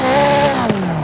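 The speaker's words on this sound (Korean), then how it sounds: "제가 엔진 소리 한번 들어볼게요." A race car engine in Forza Horizon 5 revs loudly with a steady harmonic drone that sags slightly in pitch over about a second, heard alone without talk.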